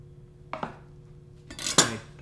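A knife cuts slices of fresh mozzarella on a board, making two quick soft taps followed by a louder scraping clack of blade and utensil, close and alone in a quiet kitchen.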